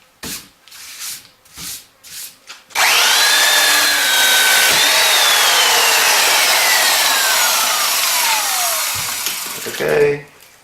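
A belt sander fitted with a coarse 60-grit belt grinds hard knife block material in a loud, sustained abrasive whine that begins after a few short taps and rubs, then cuts off near the end.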